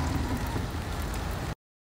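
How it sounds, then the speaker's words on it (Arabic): Heavy rain falls on the seaside town of Mirbat, a dense, loud, steady hiss that fills the air up close and then cuts off abruptly partway through. "يزيد المطر اوي على مربح"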